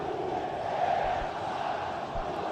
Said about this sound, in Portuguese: Protestos contra o presidente Júlio Casares